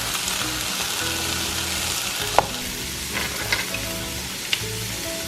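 Vegetables and minced garlic sauté in a pot, sizzling steadily while a utensil stirs and scrapes, with a few sharp knocks against the pot; no voices.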